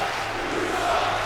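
Wrestling arena crowd in the WWE 2K22 video game, a steady, dense roar of many voices holding at an even level throughout the short stretch, with no talk over it.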